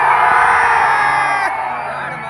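A concert crowd at a Bhojpuri music show shouts and cheers loudly, a dense burst of yells and whoops close at hand, fading slightly toward the end.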